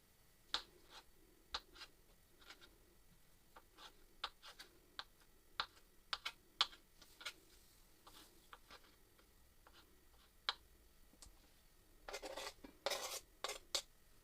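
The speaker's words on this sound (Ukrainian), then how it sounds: "Яйця для салату нарізаємо кубиками." A kitchen knife cubes boiled eggs for an eggplant salad, making soft, irregular taps on a cutting board, faint and close, ending in a quicker cluster of chops, with no talking.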